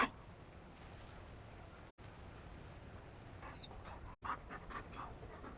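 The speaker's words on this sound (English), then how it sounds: "You found a dog?" A Mabari war dog pants in quick, soft breaths in Dragon Age: Inquisition's Trespasser, faint and steady over a low ambient hush, with two brief silent cuts.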